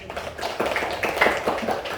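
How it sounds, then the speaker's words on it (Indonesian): Classroom clapping for a classmate, a loose round of children's hands clapping with uneven taps over about two seconds in a small room. "Berikan tepuk tangan dulu untuk teman."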